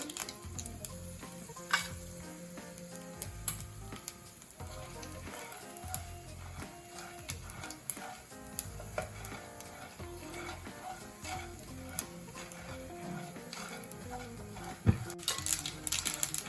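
Urad dal, mustard seeds and dried red chillies fry in hot oil, giving a steady crackling sizzle with scattered small pops and occasional clinks of a utensil on the pan, close by and continuous.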